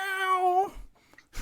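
A cat gives one loud, drawn-out meow close up, followed by a brief low rumble of purring and small rustles.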